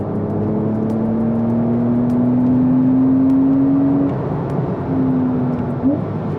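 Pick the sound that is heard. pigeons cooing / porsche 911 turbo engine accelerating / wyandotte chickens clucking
porsche 911 turbo engine accelerating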